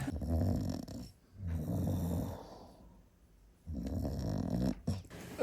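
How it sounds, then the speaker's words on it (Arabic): A person snoring while asleep in a home, with loud rough rasping breaths repeating in a slow rhythm, close by and alone. "والاخر باقي يشخر"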